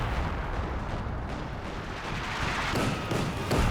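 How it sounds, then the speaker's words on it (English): Base artillery howitzer shelling in Company of Heroes 2, a continuous rumbling barrage of heavy booms and impacts with denser bursts toward the end, loud and steady throughout. "Did manage to get some base artillery targeting the battle group here though."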